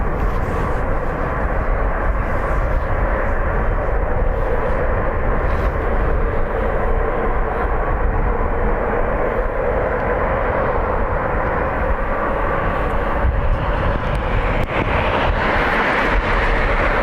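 Emirates Boeing 777 jet at Dublin Airport, a steady, loud broadband roar of engines holding throughout with no voices over it.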